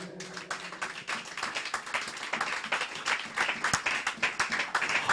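A church congregation applauds steadily, a dense patter of many hands clapping at moderate distance with a few sharper claps standing out.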